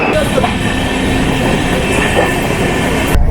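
A Sealdah to New Delhi train rolls along with a loud, steady rumbling roar and faint rhythmic clatter of wheels on track, continuous for the whole stretch.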